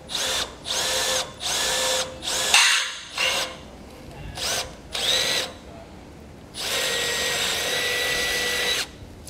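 A power drill bores pilot holes for a fold-away coupler hinge, whining in about seven short bursts of a few seconds each, with quiet pauses between and a longer final run.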